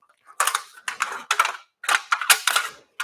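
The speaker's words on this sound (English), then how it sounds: "You can just use scissors to cut this stuff." Scissors snip through a Gates PowerGrip metal hose clamp band in a quick run of sharp, close metallic clicks and crunches, alone and without talk.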